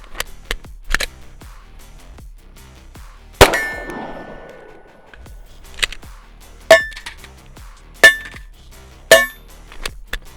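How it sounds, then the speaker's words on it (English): Budget Arory RMU1 pistol red dot optic repeatedly dropped onto steel, giving a series of sharp metallic clangs and clinks, with one loud ringing impact midway and several more strikes after it, close and clear with no talk. "that's 2 more drops on steel"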